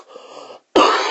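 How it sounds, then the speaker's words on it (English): A single harsh cough bursts out loudly after a moment of quieter breathy sound, close and abrupt. "The smoke is making me cough."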